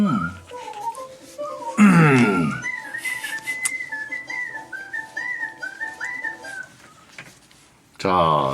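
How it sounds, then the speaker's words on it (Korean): A whistling champion performs the Turkish March, a fast run of clear, bright whistled notes that carries on for several seconds, framed by brief bursts of louder sound at the start and end. "자, 튀르키의 행진곡이죠"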